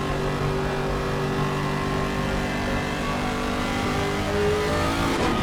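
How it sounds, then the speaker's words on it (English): A GT3 race car engine drones and revs steadily at close range before the green flag at Bathurst, loud and continuous throughout. "Hear how careful the 99 is being on the engine revs even before they take the official green flag"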